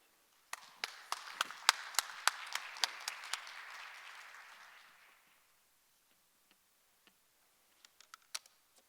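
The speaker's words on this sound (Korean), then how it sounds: "김종갑 센터장님을 박수로 맞아주시기 바랍니다" A small audience at a conference special session welcomes a speaker with scattered, distinct claps that die out after about five seconds, leaving only a few isolated clicks.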